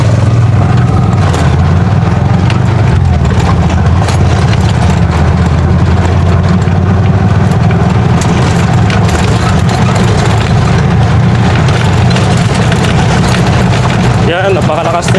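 A Bajaj RE tricycle climbs a steep offroad slope, its engine a loud, continuous low drone that strains steadily throughout, with someone talking over it.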